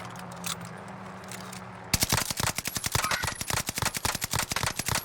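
Rapid automatic gunfire from a Warzone Pacific video game, a dense, loud burst of shots that starts abruptly after a quieter stretch and keeps firing in a steady fast rhythm.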